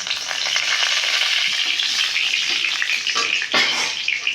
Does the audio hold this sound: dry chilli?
yes